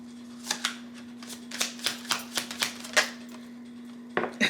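Tarot cards drawn from a deck and laid down one after another, a run of crisp, close flicks and soft slaps in an irregular rhythm over a faint steady hum, with a brief pause before a final pair of snaps.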